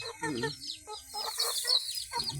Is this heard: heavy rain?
no